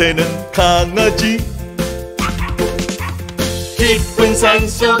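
A Korean children's song about farm animals features puppy barks and yips in quick bursts, set loud against bouncy music with a steady beat.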